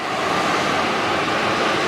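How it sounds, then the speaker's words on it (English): An electric fan runs steadily near a car's engine bay to cool the engine block, giving a constant broadband whoosh of moving air with no breaks or voices. "I got a fan going."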